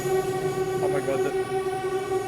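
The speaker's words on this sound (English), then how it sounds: "the sound of the brakes sounded like a train horn" Train Sim World 6 video game train braking, a steady tonal drone with sharp, horn-like harmonic lines held over continuous rail rumble, moderately loud and without any talking.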